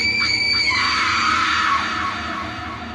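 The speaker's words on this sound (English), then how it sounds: "Deep in the trees, he heard screaming." A loud, sustained scream deep in the woods, shrill and wavering, starting with a few stuttering cries then holding one long piercing note that fades slightly at the end.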